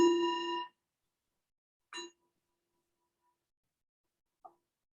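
A meditation bell rings once at a Buddhist service, a clear resonant strike that stops short, followed by two fainter, brief touches on the bell in an otherwise silent room.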